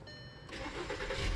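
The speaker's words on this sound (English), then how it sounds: "start the car." A car engine cranks briefly and catches, settling into a steady idle that grows slightly louder, close by with no talking.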